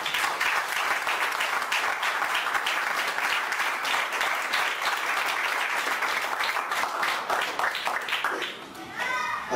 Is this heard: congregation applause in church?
yes